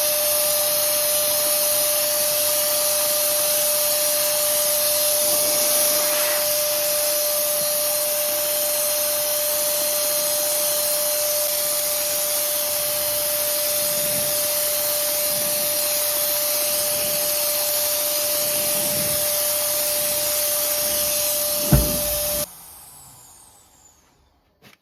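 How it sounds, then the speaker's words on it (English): A loud sprayer spraying pebbledash texture roars continuously for about twenty seconds with a steady hum, then cuts off abruptly, leaving brief quiet handling noises. "I just want to see if it will spray with the little bit of texture in it"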